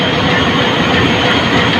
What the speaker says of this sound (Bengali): সিলেট থেকে সেরা আসা ঢাকা অভিমুখী কালুনি এক্সপ্রেস ট্রেনটি ভৈরব বাজার জংশনে প্রবেশ করেছে এক নম্বর লাইনে